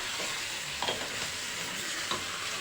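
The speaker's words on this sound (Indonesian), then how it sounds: "Dagingnya dioseng dulu sebentar" Beef for Indonesian rendang stir-fries in a hot pan, a steady close sizzle with a couple of brief scraping stirs, no voices.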